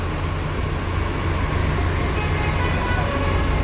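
A bus idles at a busy, crowded bus terminal in Java, a loud continuous low engine rumble mixed with dense surrounding traffic and terminal noise throughout.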